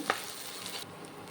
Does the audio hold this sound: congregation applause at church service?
no